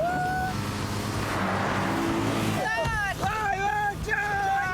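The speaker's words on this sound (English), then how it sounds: "Redlining it, dang." Race car engine screaming at high revs in the Formula One film Rush, a loud sustained mechanical roar that gives way to sharp rising and falling engine whines in the last second and a half, with a voice talking over it.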